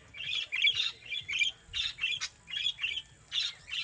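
A steady run of sharp parakeet squawks in a small aviary at an animal sanctuary, repeated rapidly in short bursts from nearby birds, with no talking.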